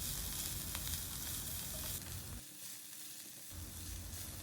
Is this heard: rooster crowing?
no